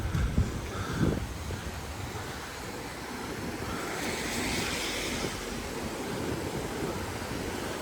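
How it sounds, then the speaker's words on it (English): Water rushing through a weir in Canterbury, a steady broad wash of flowing water heard from a short distance, with some wind and faint bumps at the start. "I think that sounds like a weir."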